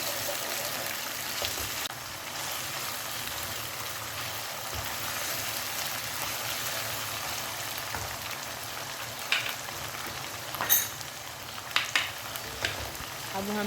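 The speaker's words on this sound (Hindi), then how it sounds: "अब हम इसमें लहसुन, अदरक और सब्ज़ मिर्च का पेस्ट डालेंगे। मिक्स करेंगे 1-2 मिनट के लिए, इसको भूनेंगे" Garlic, ginger and green chili paste fries in a pan for a qorma while being mixed, a soft continuous sizzle with faint scraping and a few sharper clinks near the end.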